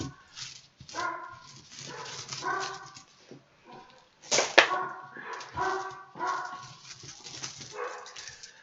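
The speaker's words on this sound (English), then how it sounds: "you guys can probably hear the dogs barking in the background." Several dogs bark and whimper in the background of a family Thanksgiving gathering, with repeated bursts of yips and woofs at moderate distance and one sharper, louder bark midway.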